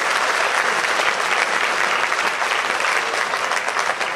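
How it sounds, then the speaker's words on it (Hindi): A crowd at a Digambar Jain temple Panchkalyanak ceremony gives a loud, sustained round of applause to welcome a guest: thick, even clapping from many hands, close and continuous throughout. "आप एक बार जोरदार तालियां बजा के उनका स्वागत करें।"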